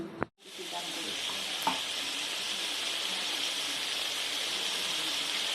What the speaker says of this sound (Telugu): వెల్లుల్లిపాయ వేసి మిక్స్ చేసుకుందాం.